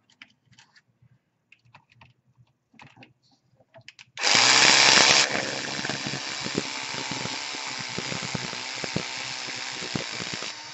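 A small power driver tightens the last bolt on an S500 quadcopter drone frame, starting with faint handling clicks and then a sudden loud, high whirring burst that settles into a steady buzzing drone with small ticks.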